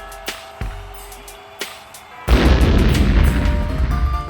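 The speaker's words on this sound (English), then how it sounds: "Explosions, bangs, crashes" Explosions and crashes from the robot combat video game Robot Arena 2: a few sharp separate bangs, then a loud sustained rumbling blast that carries to the end.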